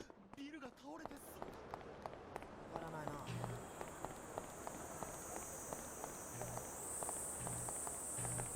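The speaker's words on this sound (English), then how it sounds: "That's supposed to be like cicadas" Cicadas in the video game Disaster Report 4 give off a faint, steady, high buzzing drone that starts a few seconds in and shifts slightly higher near the end, over soft footstep taps, with a voice heard briefly.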